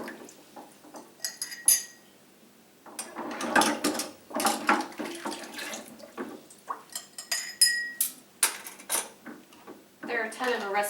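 Glass canning jars clink and knock together in a kitchen in scattered bright taps and rattles with brief pauses, alongside some clatter of metal and water, and a voice speaks at times.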